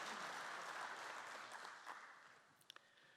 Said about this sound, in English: Please join me in a round of applause for this university's leadership, past and present